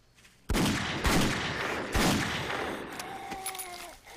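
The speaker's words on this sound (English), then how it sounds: "Even on survival, one shot to freaking head, and down they go." Gunfire in the survival video game 7 Days to Die: a loud close burst of several rapid shots that ring out, then a few fainter trailing cracks and a metallic ringing tail, with no talk.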